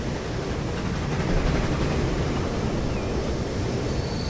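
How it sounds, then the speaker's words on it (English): A train rolls through in Transport Fever 2, heard as a steady, broad rumbling roar with a hiss, fairly loud and continuous, swelling slightly partway through, with no talking. "so we'll wait for the next train to come through"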